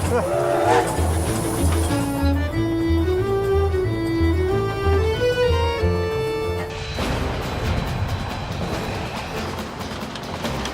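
A steam train runs with rhythmic heavy chuffing and rumbling, metallic clanks and a rising whistle-like tone, then a rushing roar of steam.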